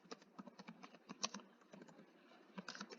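Rapid, steady keystrokes on a computer keyboard, close and fairly quiet, with no voices over the clicking.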